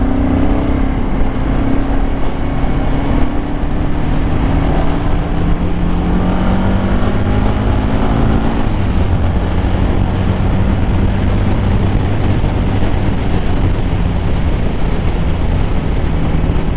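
Motorcycle with an adjustable rear shock, ridden on the road with cars behind; a steady, loud engine drone with shifting harmonic tones as revs rise and fall, continuous throughout with wind rush and no talking.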